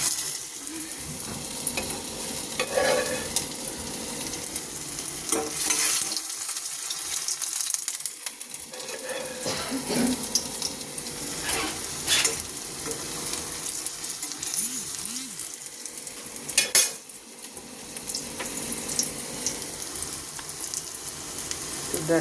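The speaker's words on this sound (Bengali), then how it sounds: "এবারে ডিপ ফ্রাই করব, তাহলে এটা খেতে মুচমুচে হবে।" Evening snacks, already shallow-fried, go into hot oil for deep frying to turn crisp. A steady hiss of bubbling oil runs throughout, with gentle popping and a brief clatter near the end.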